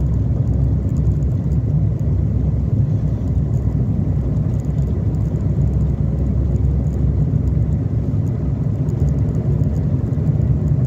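Renault 11 GTX driving, a steady low engine and road rumble filling the cabin throughout with no let-up, loud and close, no voices.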